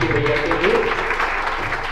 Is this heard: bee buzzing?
no